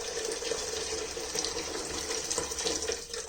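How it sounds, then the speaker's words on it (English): Hot water pours steadily into a container for home brewing ale from a kit, a close, continuous splashing rush of liquid that lasts the whole stretch. "So in goes your hot water,"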